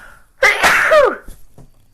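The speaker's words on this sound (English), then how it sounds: "I've got a sneeze coming." One loud, close sneeze from a person, a sharp burst of breath and voice lasting about half a second before quieting.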